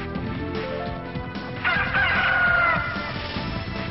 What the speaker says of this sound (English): Holy crud, it's a cuckoo!